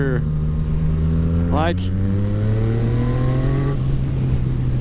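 Yamaha MT-09 motorcycle with a full Akrapovic exhaust accelerating hard in fourth gear, a steady rising engine drone with a shift-like blip midway, close and loud throughout, with a brief spoken word at the start.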